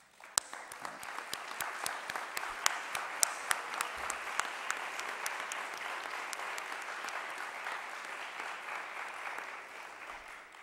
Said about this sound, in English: and let's also give them a round of applause.